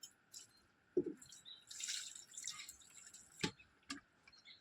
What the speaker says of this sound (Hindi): इतना पानी गिरा।